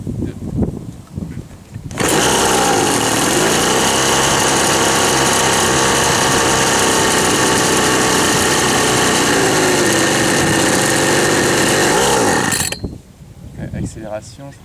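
Ryobi leaf blower small petrol engine under repair, running loud and close at a high, steady buzz for about ten seconds and then cutting off, with quieter handling noises and talk before and after.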